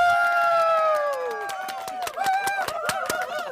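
A crowd of about 10,000 at a camping bloggers' national convention talk show roars with sustained, overlapping shouts that trail off, then bursts of clapping and renewed cheering, loud and full.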